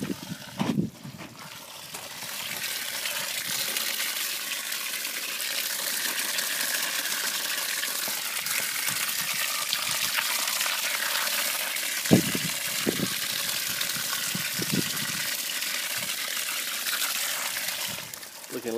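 Water gushes steadily through a fish pond filter, a continuous close splashing rush at even volume, with a few brief knocks and bumps breaking through near the middle.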